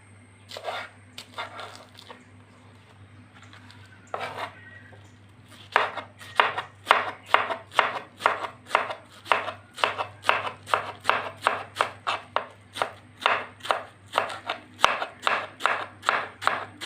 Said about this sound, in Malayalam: സാധാരണ തോരനൊക്കെ അരിയുന്ന രീതിയിൽ തന്നെ നമുക്ക് ചെറുതായിട്ട് അരിയാം